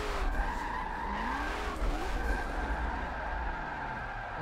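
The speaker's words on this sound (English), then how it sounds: "And it is actually drifting very well." A Koenigsegg Agera drifts in Forza 7, its tires skidding in a long, wavering squeal over a loud, steady engine roar with no talk.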